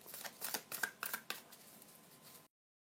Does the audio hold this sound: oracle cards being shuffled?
yes